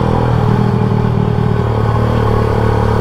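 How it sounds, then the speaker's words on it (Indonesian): A classic motorcycle engine runs steadily up close, a loud, rough, even chugging with a low throbbing rumble that holds constant throughout. "Wah ini motornya juga mongkok."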